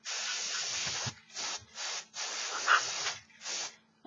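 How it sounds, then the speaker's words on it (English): Compressed air blows in repeated hissing bursts across alcohol inks on a Dollar Tree LED candle, about five separate blasts of varying length, close and fairly loud, with no talking. "we're going to go back in and blow this a little bit more with the compressed air"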